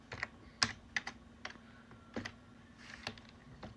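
Keystrokes on a computer keyboard entering a terminal command come as a close, irregular run of sharp clicks with short pauses, ending in a firmer tap, over a quiet hum.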